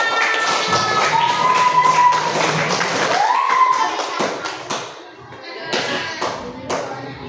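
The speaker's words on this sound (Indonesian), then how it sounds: "Nah, tepuk tangan." An audience at a class session claps hands in scattered bursts, mixed with a sliding tonal sound and voices early on, then thinning into separate taps and thumps toward the end.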